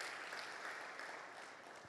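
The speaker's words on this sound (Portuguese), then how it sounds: "A igreja pode dar uma salva de palmas?" A church congregation claps in a warm, continuous round of applause, steady and moderately distant, fading slightly toward the end.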